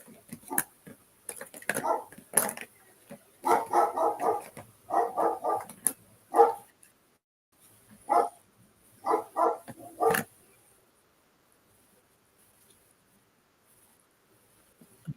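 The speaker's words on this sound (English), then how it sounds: "It's my dog." A pet dog barks in bursts inside a home during an evening craft session, loud, close, sharp barks in clusters with quiet pauses between and silence toward the end.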